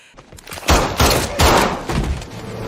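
Several sharp, loud bursts of gunfire in quick succession, each ending in a heavy thud, with no talking.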